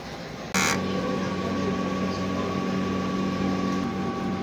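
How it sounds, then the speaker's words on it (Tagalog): A sublimation printer starts its head-cleaning cycle with a sudden jolt, then runs as a steady mechanical hum and whir. "Printer head clean."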